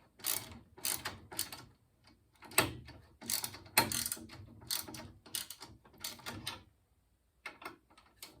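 Close, quick ratcheting bursts from a half-inch ratchet backing bolts out of a Sole E35 elliptical, several rapid clicking runs separated by short pauses, with no talking.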